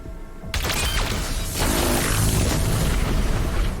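The BFG weapon firing in the video game DOOM: The Dark Ages: a sudden loud booming blast that swells into a sustained roaring, rumbling energy surge lasting several seconds, heard alone.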